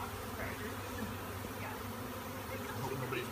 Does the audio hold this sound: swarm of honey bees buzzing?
yes